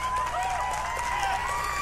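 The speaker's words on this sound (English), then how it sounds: "Listen to that smattering of applause." Scattered audience applause and light crowd noise at a Bethesda E3 2016 presentation, a thin, steady smattering of claps lasting under two seconds.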